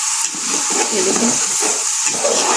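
Mixed vegetables for a rice pulao fry in a pan with a little water added, giving a steady, loud sizzle with rhythmic stirring swells every half second or so; no talk.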